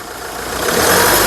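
A 2015 Mahindra XUV500 W10 engine revving up close, a dense, steady roar that swells in loudness over a little more than a second.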